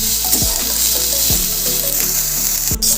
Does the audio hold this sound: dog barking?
no